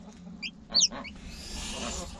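Baby geese and chicks in the care of a goose named Tori, giving a few brief, high chirping peeps close by over a low, steady background hum.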